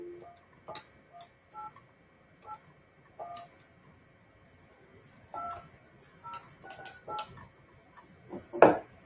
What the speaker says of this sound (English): I heard the dialing.